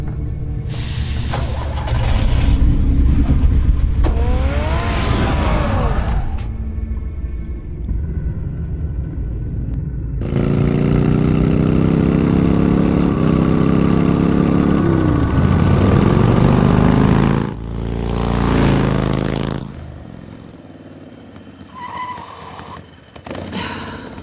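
Batmobile car engine in the Batman Telltale game, heavy rumbling bursts with rising and falling revs, starting, pausing and idling over about twenty seconds, loud and close with brief gaps of quiet.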